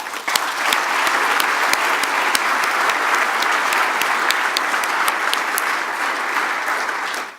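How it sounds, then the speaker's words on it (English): Audience applause at an astronomy software conference, ADASS 2017 in Chile, with dense, sustained clapping and sharp individual claps standing out near the front, holding steady before trailing off at the end. "So let's give them a round of applause."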